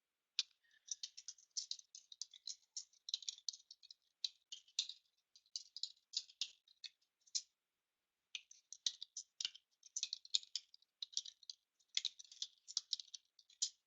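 Typing on a computer keyboard: quick, light key clicks in irregular bursts with brief pauses, close and clear with no talking.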